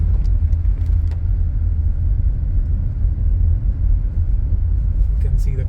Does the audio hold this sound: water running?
no